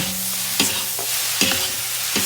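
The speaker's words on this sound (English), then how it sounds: "And after that, you mix again until evenly cooked." Mie goreng, Indonesian fried noodles, stirred in a pan over a steady sizzle, with four distinct spatula scrapes at roughly even intervals, close and clear, no talking.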